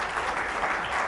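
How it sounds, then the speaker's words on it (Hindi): A studio audience on a Pakistani current-affairs talk show bursts into applause, a short dense patter of many hands that is steady and fairly loud with no talk over it. "इस पे एक दफा फिर तालियां।"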